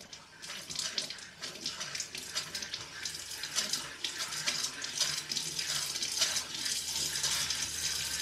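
Hot water runs steadily from an RV sink faucet in a camper, a continuous hissing splash that holds at an even level for several seconds with no talk.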